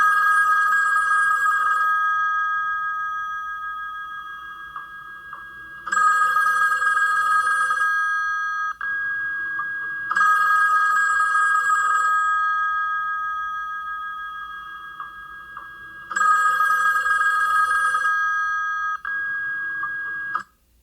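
A telephone rings for an incoming call in repeated double-trill bursts, each about two seconds long, separated by longer pauses of near silence. The ringing is clear and steady, with no talking.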